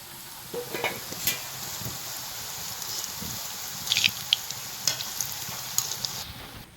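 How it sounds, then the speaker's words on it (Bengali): Sooji (semolina) gulab jamun balls frying in oil, a steady soft sizzle with occasional light stirring clicks and pops, close and fairly quiet, with no talking. "এরকম হালকা আছে আরামসে কমসে কম দশ মিনিট বসে ভালো করে ভাজা করে নিতে হবে"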